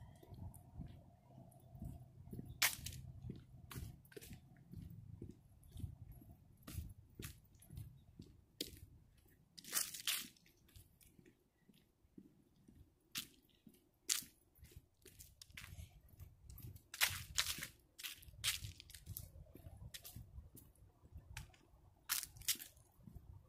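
Dry leaves crunch in quick, irregular footsteps close to the microphone, with soft rustling between the steps and no talking.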